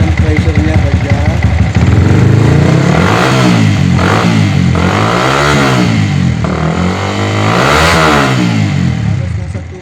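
A vehicle engine fitted with a Solfili fuel pump assembly is started and kept running during a fuel pressure test. It turns over and settles into a loud, close, rising and falling revving drone while voices talk over it.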